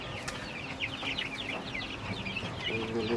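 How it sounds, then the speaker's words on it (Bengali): Sonali hens on a small rooftop farm cluck and chatter nearby in quick, irregular bursts, steady and moderately loud with no one talking. "এই পাশে আছে বড় মুরগি,"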